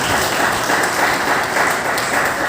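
A church congregation claps together during a sermon, a loud, thick, continuous roar of hands with no individual claps standing out.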